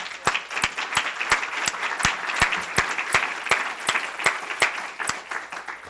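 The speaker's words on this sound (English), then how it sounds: "please join me in a round of applause" An audience gives a round of applause after a talk on what determines health, with brisk, many-handed clapping and sharp individual claps standing out, loud and steady throughout.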